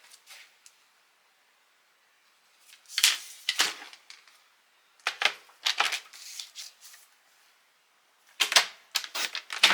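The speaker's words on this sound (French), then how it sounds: "on va couper le côté." Paper is cut along its edge for a scrapbook album page, heard as bursts of crisp, rapid snipping and rustling separated by pauses of silence, close and fairly loud.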